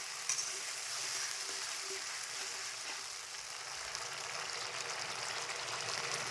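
Masala for mutton curry sizzles and fries steadily in hot oil, a continuous soft crackling hiss that holds at an even level throughout with no voices.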